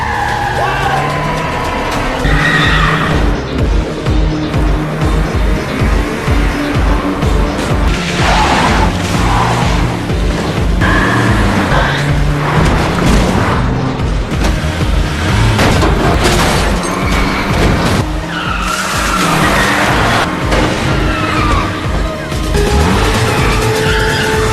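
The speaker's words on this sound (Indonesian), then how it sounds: "Terjadilah aksi kejar-kejaran di tempat parkir itu." Cars in a parking-lot chase scene from the 2022 film Special Delivery screech and skid with roaring engines and heavy booms as a car falls, loud and continuous throughout, with voices mixed in.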